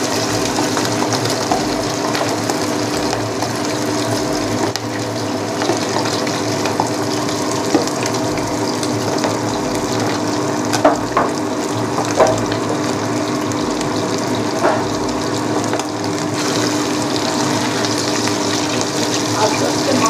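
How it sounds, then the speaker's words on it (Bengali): Chicken pieces for chilli chicken frying in hot oil give a loud, steady, close-up sizzle with constant crackling and bubbling that holds evenly throughout, with no talking. "এবার মাংসটা তেলে ছেড়ে দেবো। ছেড়ে দিয়ে ভালো করে ভেজে নেব।"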